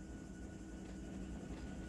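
A simulated train in the Run 8 railroad game rumbles with a low, steady rolling drone and a faint tonal hum, continuous and moderately quiet with no talking.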